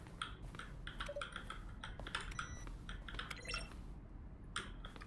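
Game button-press sounds, each blended from a keyboard keystroke, arrive as a quick run of soft, close clicks and taps at an uneven rhythm, fairly quiet throughout.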